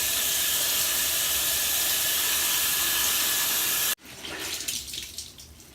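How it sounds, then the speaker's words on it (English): Hand-wrung cloth diaper flats release water that rushes loudly and steadily at first, then stops abruptly and gives way to scattered splashing drips close by, with no voices. "I just gently wring them out."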